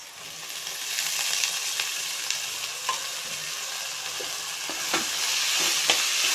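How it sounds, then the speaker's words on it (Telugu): Chopped onions and spring onions fry steadily in a pan for an egg and spring-onion curry, a continuous close sizzle broken by scattered sharp pops and scraping stir clicks. "ఇప్పుడు మనకు ఆనియన్స్ ఉల్లిపూర రెండు బాగా వేగుతాయి"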